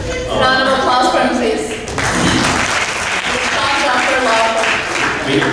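Steady, dense applause from an audience at a press conference held at the Palms in Carrollton, Dallas, Texas, loud and continuous with voices mixed in throughout.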